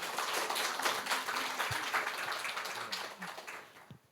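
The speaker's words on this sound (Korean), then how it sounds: "이게 다시 한번 큰 박수 부탁드리겠습니다." An audience at a Korean community center anniversary lecture applauds in dense, steady clapping that tapers slightly over four seconds.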